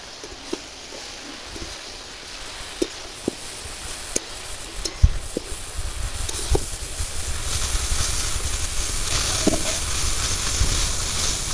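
Soaked chickpeas and black lentils sizzle in hot oil in a pan for a vegetarian taro-leaf dish: a steady frying hiss with scattered pops and crackles that grows louder and denser toward the end, with no voices.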